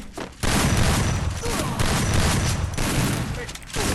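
Heavy automatic gunfire in the battle royale game Free Fire rattles in loud, sustained bursts with a couple of brief pauses, close and dense.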